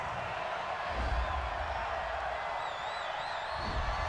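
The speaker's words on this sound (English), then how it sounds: "this crowd does not like that call" A football stadium crowd reacts to a penalty call with a broad, distant roar of voices and scattered whoops, swelling slightly and holding steady, with a faint whistle-like tone drifting above.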